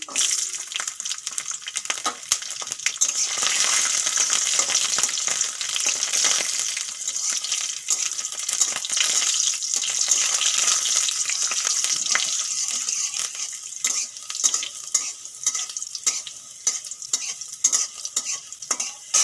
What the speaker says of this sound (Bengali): তেলের উপরে দিয়ে দেবো আমি একটু বেশি করে কালো জিরে আর দিয়ে দেবো কয়েক গোটা রসুন